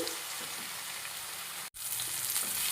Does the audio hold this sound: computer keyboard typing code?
no